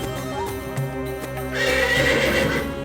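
A horse in the game Tales whinnies loudly and close, a tonal shaking neigh, then hooves clip-clop and a rougher snorting burst takes over in the second half, with no talk.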